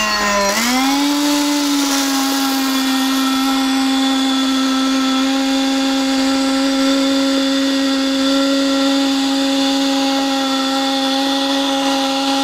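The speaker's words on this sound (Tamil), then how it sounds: "இப்போ பாருங்கள் ஆன் பண்ணுறோம் மிஷினு." An MMAA flour mill grinds green gram, starting up with a rising motor pitch that settles into a loud, steady droning whir with bright grinding noise for the whole stretch.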